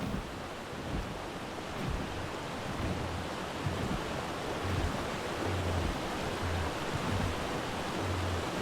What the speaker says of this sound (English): I see pretty waterfall.